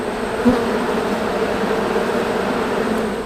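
Honeybees buzzing steadily inside a busy hive during a late-July inspection, a dense continuous drone heard up close with no talking.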